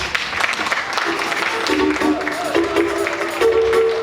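A live audience applauds on stage at an evening show, broad clapping and crowd noise sustained at moderate level, with a tonal music line rising beneath toward the end.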